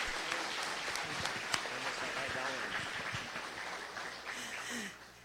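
A church congregation applauds at a missionary conference, a dense, steady wash of clapping that holds for several seconds before fading, with voices talking underneath.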